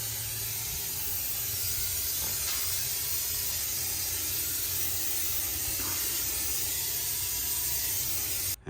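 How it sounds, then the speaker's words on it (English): Aerosol spray coats the inside of a 94-gallon offset smoker with a steady, close hiss that runs unbroken for nearly the whole stretch before cutting off at the very end. "decided to spray this down"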